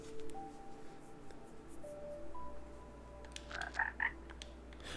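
Frog croaks from the video game Ikonei Island come in a soft cluster near the end, over quiet background game music and ambience.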